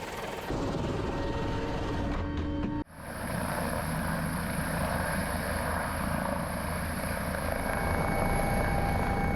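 An air ambulance helicopter of the Kent Surrey Sussex charity drones steadily at close range, with a brief dip in the noise early on before the continuous rotor and engine hum resumes.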